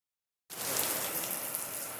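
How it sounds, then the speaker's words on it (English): Rain in Borneo begins abruptly after half a second of silence, then continues as a steady, even hiss of falling drops at moderate volume. "It's raining."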